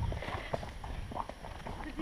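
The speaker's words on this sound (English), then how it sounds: "What a good horse." Horse hooves clip-clop in a steady rhythm on the ground at Fair Hill, partly under close, continuous talking.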